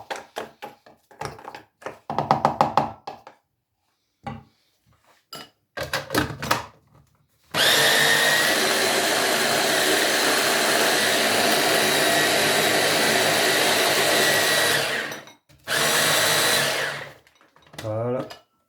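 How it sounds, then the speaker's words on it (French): A food processor or blender runs for about eight seconds, loud and steady, grinding mushrooms into a paste for a poultry roulade, with short bursts and clatter before and after. "On insiste bien pour bien mélanger le tout. Il faut que ça fasse comme une belle petite pâte de champignons."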